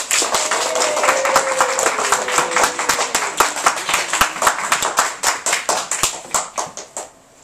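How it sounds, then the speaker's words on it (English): An audience claps to welcome a guest, with dense, steady applause that gradually thins into a few separate, slowing claps before it stops. "Will you welcome with a round of applause, Amelia Earhart."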